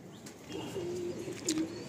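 Pigeons in a loft give two soft, low coos close by, each a short drawn-out murmur, with faint chirps in a quiet background.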